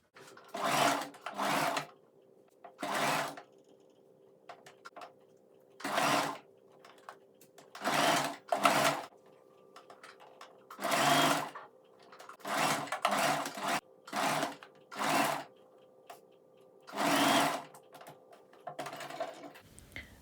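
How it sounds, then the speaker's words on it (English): A sewing machine stitches a fabric coat for a Petit Qoobo robotic pet in short, repeated bursts of whirring, separated by brief pauses, fairly close and clear. "So now I need to pin it onto the other side and sew it."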